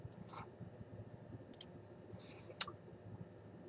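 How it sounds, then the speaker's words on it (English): Two or three crisp mouse-button clicks on a computer while working in building-envelope modeling software, sharp isolated ticks with a faint low hum underneath. "by clicking that button"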